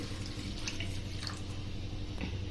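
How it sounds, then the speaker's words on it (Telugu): Water poured from a glass into jowar flour soup seasoned with cumin powder, a steady splashing trickle that runs unbroken across the whole moment at moderate loudness, with no voices. "నేను ఇక్కడ 2 గ్లాస్ వరకు వాటర్ వేస్తున్నాను"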